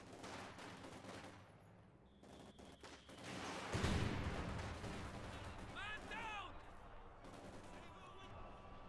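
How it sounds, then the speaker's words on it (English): Artillery gun shelling an enemy base in the Company of Heroes 2 strategy game, with a dense mix of battlefield blasts and gunfire, a heavy deep impact near the middle, and chirping effects under constant combat noise. "the artillery gun just firing into the base, hitting everything that it can"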